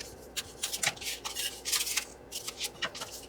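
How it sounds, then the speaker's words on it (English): Cardstock is handled and folded in half in quick succession, giving crisp papery rustles and soft creasing swishes in short uneven bursts, close and fairly quiet with no talk. "take our cardstock and fold it in half. So I'm going to actually fold all of mine."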